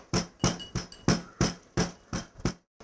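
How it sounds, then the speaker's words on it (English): Garlic pounded by hand with steady, evenly spaced blows, about nine sharp thuds in under three seconds, close and clear with no talking. "now Arjun is going to pound some garlic for me"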